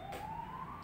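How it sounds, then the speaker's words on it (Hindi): An ambulance siren passing outside wails in a steady rising tone, clearly audible at moderate distance with no talking over it. "ये एम्बुलेंस आता है ना, बहुत दिमाग खराब होता है"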